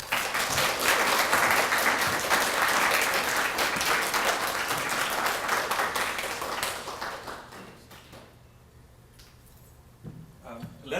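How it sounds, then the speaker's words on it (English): Sustained audience applause fills a university opening ceremony hall, loud and dense for about seven seconds before thinning into scattered claps and fading to quiet room noise. "Let's give them a huge applause"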